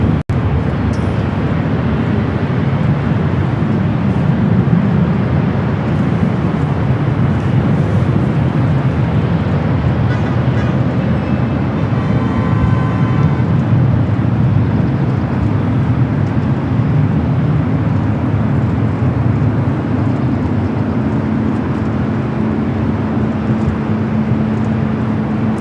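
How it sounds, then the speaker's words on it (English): A Philippine Airlines Boeing 777-300ER jet roars steadily at LAX airport, a loud, continuous rumble of engine noise that holds for the whole stretch with no talk. "Philippine Flight 113 heading back to Manila in this 777-300ER"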